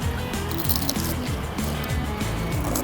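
Lemon squeezed by hand onto masala puri with coriander and black pepper at a Vadodara street food stall, a short wet squish and drip under steady, loud street and crowd noise.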